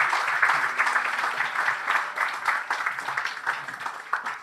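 Audience applause rises at a church family gathering, a dense, steady patter of many hands clapping close by that holds for several seconds and thins slightly toward the end.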